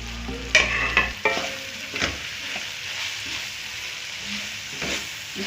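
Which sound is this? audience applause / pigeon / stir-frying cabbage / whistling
stir-frying cabbage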